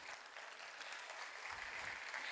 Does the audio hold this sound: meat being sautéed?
no